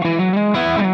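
Electric guitar through a modeler on the mid-range front pickup, one sustained distorted chord, loud and close, with no talk.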